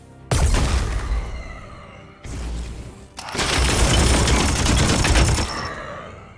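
Heavy gunfire erupts in Warhammer 40k: Chaos Gate Daemonhunters, two loud sustained bursts of booming automatic fire separated by a short lull, the second longer and rumbling.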